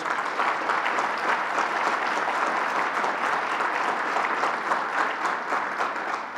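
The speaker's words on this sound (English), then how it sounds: "Let's give them a round of applause." Audience at a New York bill signing for the Middle Class Recovery Act breaks into sustained applause, a full, even roar of many hands clapping throughout with no pause.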